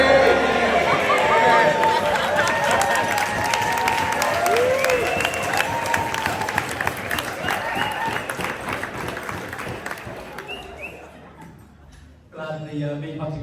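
Loud, sustained audience applause after a wedding speech, with cheering and laughter mixed in across a crowded room, fading toward the end before a voice returns.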